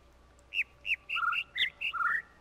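Birdsong from the puzzle video game The Witness rings out as a string of clean whistled chirps, some rising, some falling, in a quick uneven rhythm over a soft background hum.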